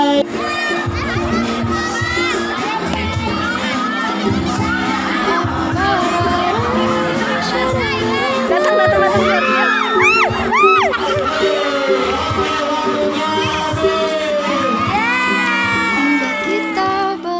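A large crowd cheers and claps continuously, with whoops and children's shouts, while a voice talks over it through the long, lively stretch.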